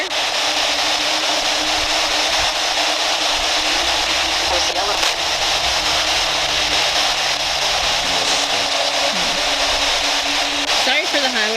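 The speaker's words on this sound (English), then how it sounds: "Sorry for the highway noise" Nearby highway traffic at a battlefield park in New Bern, North Carolina, makes a constant broadband roar and hiss with passing vehicle swells, and faint voices can be heard underneath.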